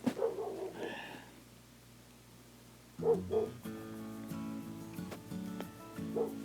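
A dog barks and yips a few times nearby, short sharp calls separated by a quiet stretch, with faint background hum and no speech.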